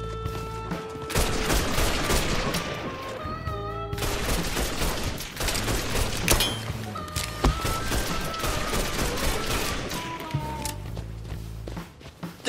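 Gunfire in Mafia III, loud bursts and rapid volleys of shots over about twelve seconds, spaced by short pauses, with game music playing underneath and no talking.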